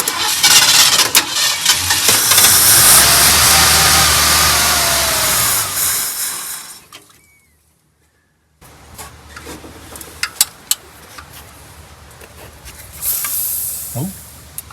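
A 1972 Ford F100 pickup rescued from a junkyard cranks and runs loudly with a hissing roar, cuts out into brief silence, then idles roughly with sputters and pops.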